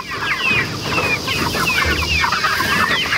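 Chickens on fresh grass clucking steadily in a loose flock nearby, a continuous busy chatter of overlapping clucks and short calls with no talking.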